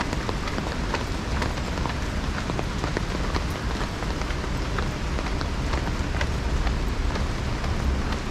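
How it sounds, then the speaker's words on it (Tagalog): Heavy rain pours steadily onto surfaces around someone walking outdoors, a dense, loud, unbroken hiss of drops and splashes with no voices heard. "Kaso lang ganitong malakas ng ulan."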